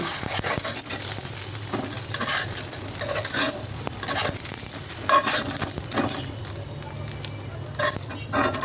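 An egg fries and is flipped in a pan for a Bengali egg dal with jujube, with steady close sizzling crackle and a few scraping turns, no talk.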